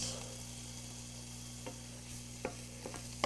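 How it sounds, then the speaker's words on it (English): Quiet, steady sizzle of chopped onion frying in oil in a pan with a constant background hum, punctuated by a few soft scraping clicks from stirring. "I'm just going to stir that in just until it starts to sizzle, which is what it's doing"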